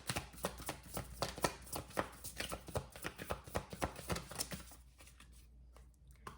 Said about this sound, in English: These cards are so big. It's so hard to shuffle them.